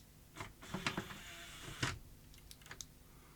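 An LG LM-D5530 home theatre unit with a faulty DVD tray makes faint clicks, ticks and short mechanical whirs as its tray tries to eject, a scattered sequence of small close sounds in a quiet room.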